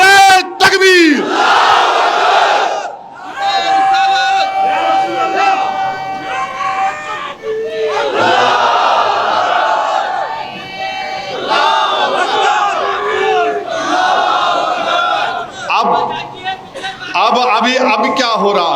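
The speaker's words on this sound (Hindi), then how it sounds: "अब लगाओ नारा, नारे तकबीर।" A large crowd at a political rally in Hyderabad chants the slogan Nara-e-Takbir in loud, repeated collective shouts, the waves of voices swelling and dipping together over amplified speech.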